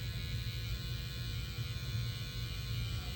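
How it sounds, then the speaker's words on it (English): An electric hair trimmer buzzes steadily while cleaning up the sides of a woman's fine, thin salt-and-pepper haircut, a close, even mechanical drone over a low hum with no speech. "we're gonna take our trimmer. And I'm going to clean up her sides here"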